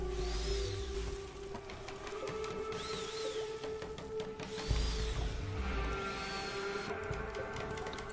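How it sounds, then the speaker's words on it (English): Mechanical furniture-building sounds from the colony game Rimworld, a continuous whirring and grinding like a tool at work, steady and moderately loud with rising tonal sweeps, while chairs are built. "Let's build some chairs and shit, please."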